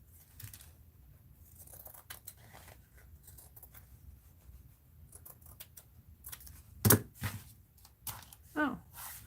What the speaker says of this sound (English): Let's cut this way. Let's cut this part off.